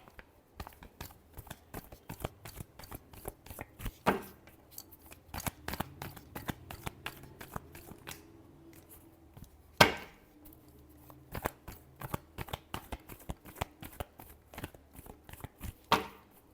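Tarot cards are shuffled by hand close up, a long run of quick crisp flicks and riffles with an uneven rhythm and a few louder snaps, with no talking.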